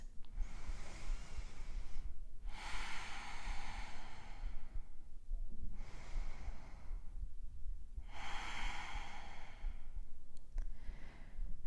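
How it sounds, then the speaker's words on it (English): Deep, slow breaths during a reclined yoga pose, Supta Baddha Konasana: long airy inhales and exhales in a steady rhythm, close to the microphone with quiet gaps between them. "Take a couple of breaths in Supta Baddha Konasana."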